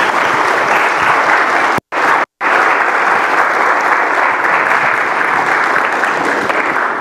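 A lively audience bursts into sustained applause welcoming Wendy Traynor at a King University event; loud, dense clapping continues steadily throughout, broken only by two very brief dropouts.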